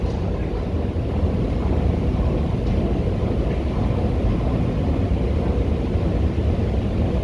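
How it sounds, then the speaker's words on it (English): Steady airplane engine roar heard outdoors on a hilltop overlooking Stockholm, a constant broad drone holding at even loudness throughout with no voices. "Looks like airplane engines."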